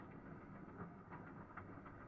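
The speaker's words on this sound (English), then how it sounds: "Here's the second train coming in." Locomotive No. 4 Edward Thomas pulls a full train into a station, rumbling in the distance: a low steady mechanical drone with faint rhythmic clatter, quiet and unbroken.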